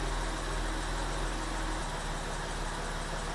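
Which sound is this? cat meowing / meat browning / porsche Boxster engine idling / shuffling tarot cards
porsche Boxster engine idling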